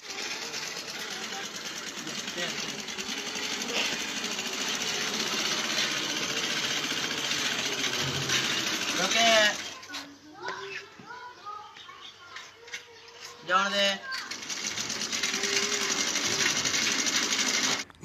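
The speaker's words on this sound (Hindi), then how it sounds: "इन्होंने सिलाई मशीन के साथ साइकिल बांधकर एक ऐसा बेहतरीन जुगाड़ लगाया" A sewing machine powered by an attached bicycle whirs in a steady, fast mechanical rattle, close and loud. It breaks off briefly midway while voices and children's chatter come through, then resumes running.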